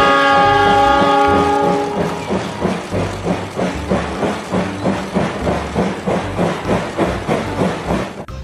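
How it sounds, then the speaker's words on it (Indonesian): Toy train sounding a bright horn blast, then a steady rhythmic clickety-clack chugging with a soft hiss, close and loud, with no voices. "lihat teman-teman, ada kereta api"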